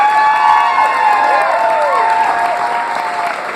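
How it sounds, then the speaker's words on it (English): A convention panel crowd applauds and cheers continuously, with whistles and whoops rising over the steady clapping, loud and close throughout. "Big round of applause."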